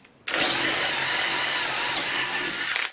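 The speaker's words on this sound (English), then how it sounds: "then you would drill the rest of the hole" A power drill with a standard bit runs steadily at full speed for nearly three seconds, a loud continuous whine boring a bolt hole through wood, starting and stopping abruptly.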